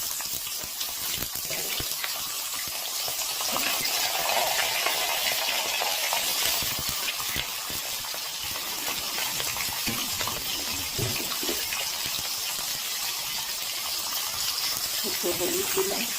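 Pointed gourds (potol) frying in salted oil for a Bengali dolma, a steady loud hiss of sizzling that runs the whole time with faint clatter.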